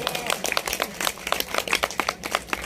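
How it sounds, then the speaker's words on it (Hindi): An audience applauds a poet at a Hindi poetry gathering in Unnao, a dense burst of many hands clapping, close and lively, with uneven sharp claps fluttering throughout. "जोरदार तालियां मैडम के लिए।"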